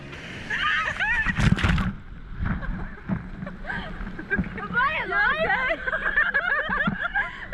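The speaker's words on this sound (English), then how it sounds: "we did not expect the waves to be so intense" Ocean waves surge and splash at the main beach at Surfers Paradise, sloshing in bursts while people shout and squeal nearby.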